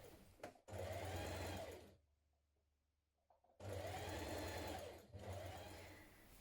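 A sewing machine stitches coat shoulder seams with a 1.5 cm seam allowance, running in two close, loud bursts separated by a brief quiet pause.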